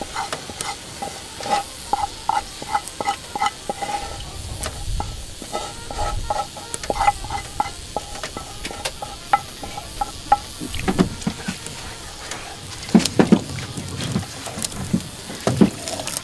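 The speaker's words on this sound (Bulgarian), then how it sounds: "Размешваме хубаво." A spoon scrapes and stirs a cabbage mixture in a cooking pot with repeated irregular clinks and scrapes, fairly close, against a faint steady hiss.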